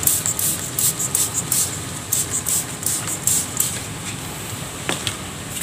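A hand sprayer mists pak choi in a home yard vegetable garden, giving a run of short, repeated hissing bursts at close range.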